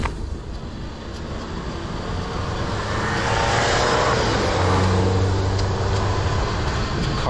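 At night on a street, a car passes close by a rider on a used Rad 500W e-bike, its engine and tire roar swelling steadily louder and peaking near the end, with no talking.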